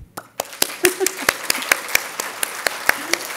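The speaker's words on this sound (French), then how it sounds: "j'ai le goût de vous applaudir" A few people clapping in a steady rhythm at a volunteer appreciation evening, crisp distinct claps close by, with brief voices underneath.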